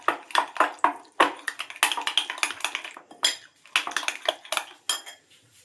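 A spoon clinks and scrapes against a bowl while chopped onion, tomato, chilli and coriander are mixed, giving a rapid, uneven run of close metallic taps with brief pauses between bursts.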